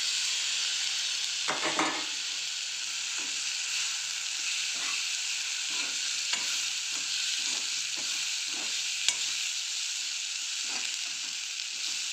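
Cluster beans sauté in a pan over a steady hiss of frying oil, while a spatula scrapes and taps the pan in a loose, regular rhythm, with one louder knock near the start.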